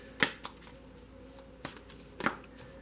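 Tarot cards are flipped from a deck one at a time, giving four crisp, soft snaps spaced irregularly over a quiet room.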